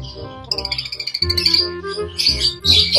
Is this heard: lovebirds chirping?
yes